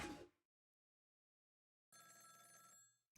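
A brief snatch of ringing from a telephone in the video game Ghost Trick: Phantom Detective comes in after a short burst of noise and a silent pause, faint and electronic, with no talking.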